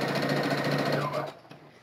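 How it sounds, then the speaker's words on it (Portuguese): A sewing machine stitches rapidly through fabric, lining and batting for a wine bottle holder, a steady near whir with fine rhythmic ticking that stops abruptly near the end. "Então, eu vou costurar por aqui."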